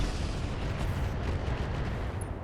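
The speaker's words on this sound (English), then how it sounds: "Firing a full salvo." A mech in RogueTech fires a full weapons salvo in a steady, heavy wall of overlapping blasts and rumbling booms that holds at a constant level throughout.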